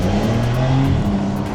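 A Ferrari F8 sports car drives past on a city street, its engine a loud, close, continuous rumble over a short moment.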